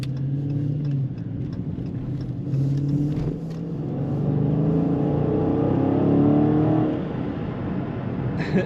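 A 2015 Dodge Challenger R/T Scat Pack with an automatic gearbox accelerates hard, its deep engine note climbing and swelling through the run as it gets up to speed, loud and close with no talk.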